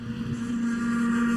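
A race car revs its engine climbing a hill on a circuit during a time attack and drift event, a steady sustained engine drone that rises slightly in loudness, heard from a distance with wind noise and no talking.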